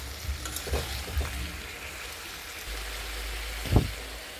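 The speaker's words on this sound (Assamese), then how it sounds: "এতিয়া মই কেঁচা জলকীয়া 3টা এড কৰিলোঁ আৰু অলপ লাৰি দিছোঁ" Three green chilies being stirred as they fry in a pan with salt and turmeric, a soft low sizzle with a few scraping stirs and one louder clatter near the end, no voices.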